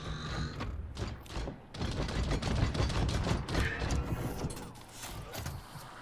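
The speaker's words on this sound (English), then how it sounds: "there's a sentry gun here" Automated sentry gun in Wasteland 3 opening fire in rapid mechanical bursts, dense and fairly loud, with clattering gunfire and whirring mechanisms over game ambience.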